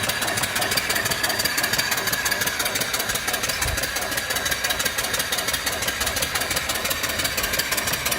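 A live steam mill engine running off grid at about 200 RPM, belted to an alternator, gives a loud, steady, rapid mechanical chuffing and knocking beat that continues evenly throughout, close by and without voices.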